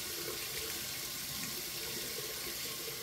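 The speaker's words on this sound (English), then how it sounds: "you just take the washcloth and you put it on the front of the lace and you just squirt the water out of the lace" Water squeezed from a wet washcloth pressed against the front of a lace wig, a close, steady trickling and splashing stream running continuously without any talk.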